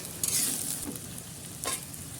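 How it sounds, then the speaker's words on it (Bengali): Potatoes fry in hot oil with browned onions, giving a steady close sizzle with a few brief stirring scrapes. "যে আলুটা ভেজে নিচ্ছে একটু।"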